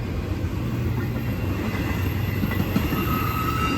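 A Norfolk Southern freight train's distributed power unit locomotive passing near Gaffney, South Carolina, with a loud continuous rumble of wheels and rail, faint clickety-clack and a thin wheel squeal, no voices.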